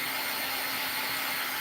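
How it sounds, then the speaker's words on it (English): A dryer runs at close range, a loud continuous airy whoosh with an even, unbroken tone throughout. "when I had that dryer going"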